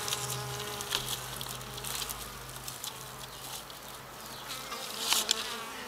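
Bees buzz steadily while drinking at a water source, a dense close hum with passing insect drones rising and fading and a faint low tone underneath.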